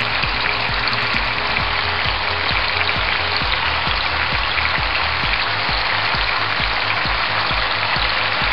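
Shrimp sizzle steadily in a hot pan while cornstarch is stirred through them, with a dense continuous frying hiss and soft rhythmic scraping taps from the utensil throughout.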